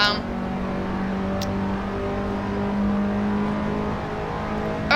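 A race car engine in the video game Assetto Corsa drones loudly through a lap, its pitch climbing and shifting with throttle as it runs steadily without pause.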